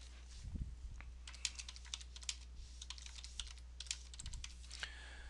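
Rapid typing on a computer keyboard, a steady patter of light key clicks with a couple of louder thumps, fairly close and alone over a constant low hum.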